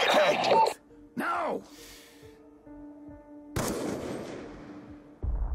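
Gunfire in the video game Call of Duty Black Ops 2, heard as several loud, sharp bursts spread across a few seconds, with game voices and ambience between the shots.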